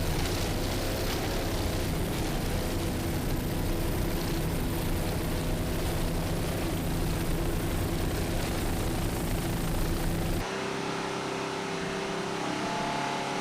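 A 26-foot Velocity racing powerboat with Mercury engines roars past at an offshore powerboat championship, a loud, dense engine drone that holds steady before dropping off abruptly near the end.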